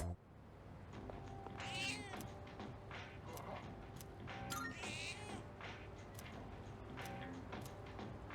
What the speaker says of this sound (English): Cat is purring loudly.